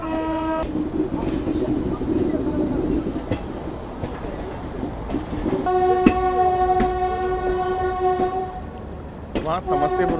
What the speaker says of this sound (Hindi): यहाँ पे WAP4 हमारे साथ साथ बढ़ रहा है आगे।